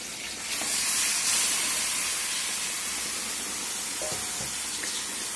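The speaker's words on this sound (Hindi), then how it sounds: "इसमें चिकन के पीसेस डाल लीजिए, हल्का सा फ्राई करिए अदरक लहसुन के साथ" Chicken pieces frying lightly in a pan with ginger and garlic, giving a steady broad hiss of sizzling that swells after the first half-second and holds at an even, close level without any talk.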